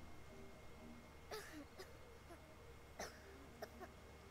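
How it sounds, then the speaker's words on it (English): Several short coughs and throat-clearing sounds from a character in the video game Life Is Strange 2, fairly faint, in scattered bursts over a quiet background with no talk. "I hear coughing."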